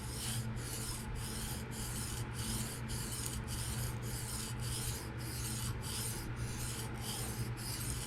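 Freehand sharpening of a PM60 steel Kunwu knife during burr removal, a steady close rasping rub of steel on stone with regular strokes about every half second, continuous and alone.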